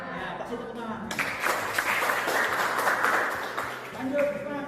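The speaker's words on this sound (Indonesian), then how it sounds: "kasih tepuk tangan" A classroom of students applauds during a grade XII civics lesson at a senior high school, a dense burst of clapping lasting about three seconds between stretches of a teacher talking.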